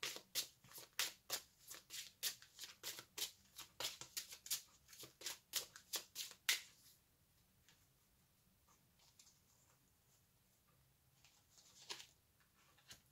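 Tarot cards are shuffled in a quick run of about twenty crisp, rhythmic riffles for several seconds, close and fairly quiet, followed by softer sliding and tapping of the cards.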